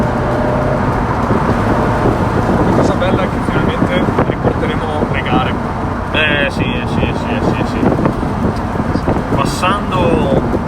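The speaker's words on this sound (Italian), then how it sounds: "mazza se c'è vento" Strong wind buffets the microphone at an outdoor racetrack, a constant roaring rumble with a few faint higher tones, while voices talk over it.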